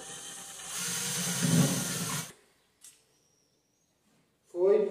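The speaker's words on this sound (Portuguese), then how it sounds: "você vem com a furadeira" Power drill boring into plasterboard for a socket hole, a steady whirring grind for about two seconds that stops abruptly, followed by near silence and a brief closing sound.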